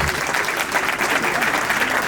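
Wedding guests burst into dense, steady applause, a continuous wash of many hands clapping close by without a break.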